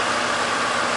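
A tuned Holden CV8 Monaro with a 5.7 litre engine idles steadily, giving a close, even, continuous rumble with no breaks or revving and no talking over it.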